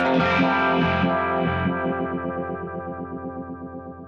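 A distorted electric guitar chord rings out, then a dual modulator pedal's effect swells in, its pulsing wobble ramping up in speed as the sustained note fades.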